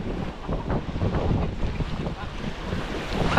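Sea waves slap and wash around a boat off Mindanao, a rough rumbling surge mixed with buffeting wind on the microphone, steady and close throughout.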